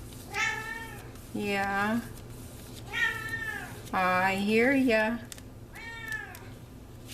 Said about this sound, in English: My cat wants to have a conversation.